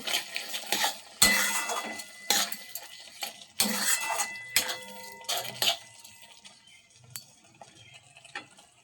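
A spoon stirs tomato chutney with pitted, chopped dates in a pot. It scrapes and clinks against the metal in irregular bursts, close and fairly loud, with no talking.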